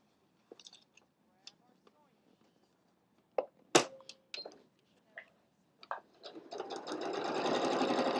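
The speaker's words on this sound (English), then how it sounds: "Let's grab our sewing machine and we're going to position everything and stitch right" A sewing machine runs in short bursts of stitching, then a longer steady whirring run near the end, with scattered small clicks and handling noises.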